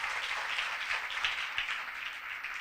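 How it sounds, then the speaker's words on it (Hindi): Sustained applause from an audience at a Christian church gathering: dense, even clapping from many hands that continues without a break and carries no voices. "पाकरू के लिए जोरदार तालियां बजाएं।"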